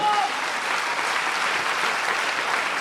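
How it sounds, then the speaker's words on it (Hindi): An audience at a Varanasi promotion event applauds the speaker's team with sustained, even clapping from a sizable crowd, filling the room at a constant level. "मैं चाहूंगा इन सभी महत्वाकांक्षी लोगों के लिए दिल से एक बार जोरदार तालियां बजा दीजिए"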